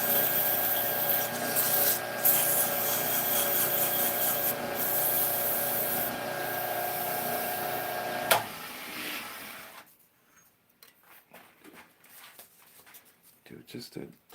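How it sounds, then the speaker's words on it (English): Sandpaper rubs against a spinning wood-turned top on a restored old lathe, a steady loud rasping hiss for about eight seconds that cuts off, leaving quiet room sounds. "Do just a touch more sanding."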